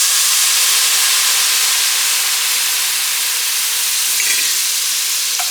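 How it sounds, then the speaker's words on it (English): Whiskey poured into a hot pan of browned onions for coq au vin gives off a loud, continuous steamy sizzle that holds evenly throughout, close and without speech. "now we're just going to add our whiskey and deglaze the pan."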